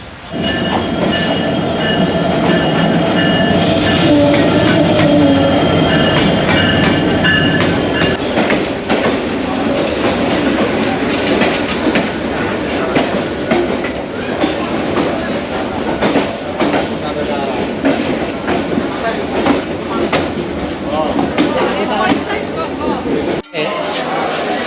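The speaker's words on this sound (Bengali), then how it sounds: "তো অলরেডি ট্রেনের সিগন্যাল হয়ে গেছে, ট্রেন এখন চলে আসবে।" Karatoya Express train on the Bogura–Gaibandha line arriving at a station, loud rumbling and clattering of rail cars close by with squeals and rattles, while people talk nearby.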